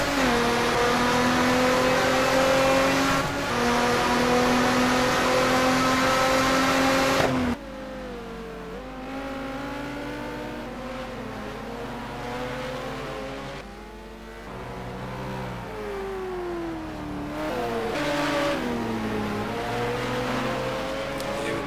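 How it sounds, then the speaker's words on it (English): A McLaren race car engine in a sim racing game at the Aldo Scribante circuit: loud, sustained revving with rising and falling gear pitches, and a shift to a different car's engine note partway through as others pass. "Marco passing Louis in the McLaren"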